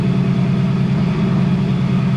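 A Ford Crown Victoria fitted with a 7.3L Godzilla V8 idles steadily, a continuous close, loud low engine drone with no revving and no talk.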